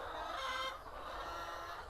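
Laying hens clucking on a mixed cattle and egg-chicken farm, a dense continuous chorus of nearby clucks and calls with no talking.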